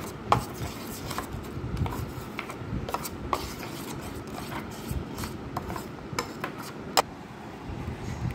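Spice paste being mixed with oil using a big spoon for steamed egg curry (dim bhapa), with steady close scraping and light clacks of the spoon against the bowl throughout.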